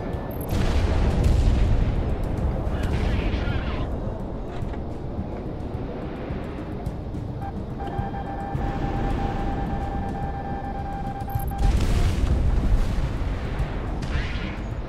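Missile hits and explosions in the jet combat game Project Wingman, heard as continuous loud booming rumble with engine roar, bursts swelling near the start and again later, under faint talk.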